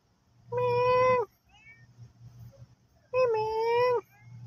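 Two cats trade meows, each a drawn-out, clearly pitched wail close by, separated by a pause with low background murmur and a steady hum.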